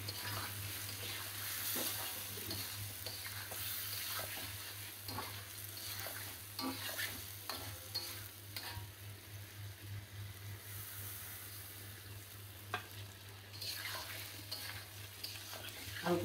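Shing fish (stinging catfish) stirred and fried in cumin-spiced oil, a quiet continuous sizzle with repeated scraping and clacking of a spatula and a low steady hum beneath, no talk.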